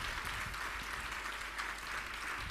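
A church congregation claps together in praise, a dense, even burst of many hands sustained briefly at moderate loudness with no voices over it.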